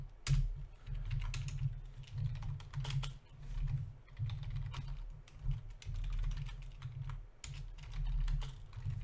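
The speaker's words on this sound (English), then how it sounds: "That's Python if you're wondering what I'm typing." Python code is typed on a computer keyboard in rapid, continuous clicking keystrokes with brief pauses, close up over a low steady hum.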